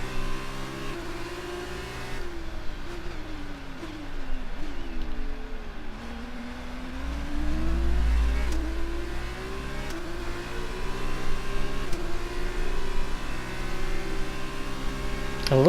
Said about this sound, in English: I love the gear shift changes in these Formula 2 cars.